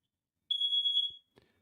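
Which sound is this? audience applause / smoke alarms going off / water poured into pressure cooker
smoke alarms going off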